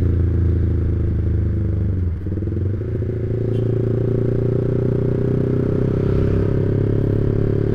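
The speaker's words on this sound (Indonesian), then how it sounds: "dengerin aja suaranya knalpotnya kayak gimana" A motorcycle fitted with a WRX GP5 R2 25 cm exhaust with a half baffle idles alone, a steady close low rumble with a slight dip near two seconds before settling back to an even drone.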